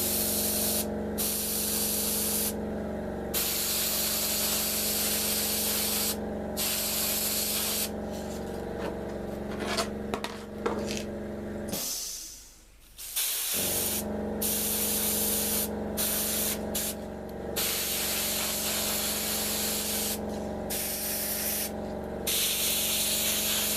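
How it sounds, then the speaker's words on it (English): Spray gun or airbrush hissing steadily while painting parts of a USAAF B-29A scale model, a continuous close spray broken by short pauses and one longer gap partway through. "I'm now going to spray these parts here."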